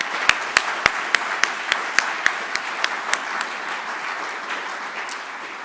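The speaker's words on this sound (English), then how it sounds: "we give them a special applause for all the work they have done to" Audience applause at the opening of a READ COOP conference, thanking the organizers: a crowd claps steadily with a few sharp individual claps standing out at first, then settles into a softer, even patter.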